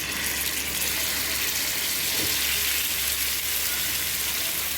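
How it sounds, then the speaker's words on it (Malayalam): Marinated green chicken frying in a pan over a low flame, giving a steady, even hiss and sizzle that stays constant throughout with no talking. "ഇനി നമുക്കിതൊന്ന് ഫ്രൈ ചെയ്യാം."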